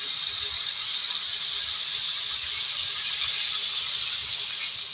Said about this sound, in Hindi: मिक्स करने के बाद इसमें गलाने के लिए पानी ऐड करेंगे।